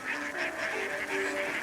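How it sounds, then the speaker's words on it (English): Small flock of ducks being herded between ponds near Battambang, Cambodia, quacking in a steady nasal chorus at close to moderate distance, with the calls overlapping continuously and no talk. "There's probably 1 or 2 ducks, just like cows, that know the way."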